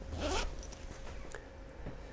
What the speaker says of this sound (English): even the zip works